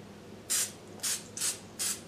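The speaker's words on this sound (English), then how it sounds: "lightly spray the frozen sorullitos with olive oil" Olive oil cooking spray is spritzed over frozen sorullitos in four short, close bursts of airy hiss, each separated by a brief pause.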